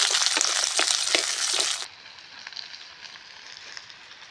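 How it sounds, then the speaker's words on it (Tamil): Ginger, green chilies, shallots, onions and garlic sizzle loudly in hot oil for nearly two seconds with crackling bursts, then the frying drops to a quieter, steady hiss. "இஞ்சி, பச்சை மிளகா, சின்ன வெங்காயம், பெரிய வெங்காயம், பூண்டு இதெல்லாம் போட்டு நல்லா வதக்கிக்கலாம்."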